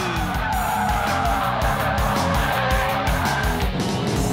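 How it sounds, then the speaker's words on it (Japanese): A Mazda Roadster with 50:50 front-rear weight balance and eco tires on the rear drifts on a track, its engine roaring loudly and tires squealing continuously throughout. "前後重量配分50対50のロードスターはドリフトアングルを決めるのも保つのも難しい。"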